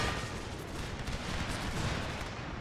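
Canister shot artillery in Empire: Total War, a dense, loud continuous crackle of rapid firing blending into a rumbling battlefield roar.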